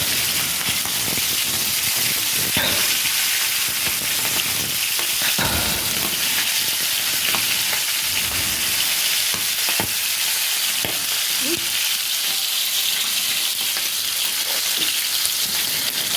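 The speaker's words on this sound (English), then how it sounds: "I'm frying the chicken." Chicken frying in a pan, a loud, steady sizzle with occasional pops and crackles throughout.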